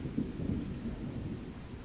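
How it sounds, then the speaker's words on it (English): Low rumbling thunder rolls through a rainstorm, a muffled, heavy grumble with soft rain noise beneath, moderately loud and continuous without sharp cracks. "You could probably hear the thunder right now."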